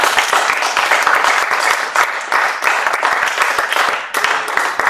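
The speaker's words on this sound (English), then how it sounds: "Can we give Brenda another round of applause?" A seated audience gives a speaker at a makers talk a loud, dense round of applause, many hands clapping close and continuously for about five seconds.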